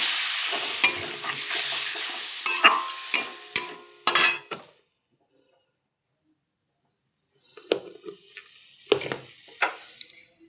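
A spoon scrapes and clacks around a pan of spiced vegetables with turmeric, making a series of close, sharp strokes over a soft sizzle, then a pause of silence before more stirring.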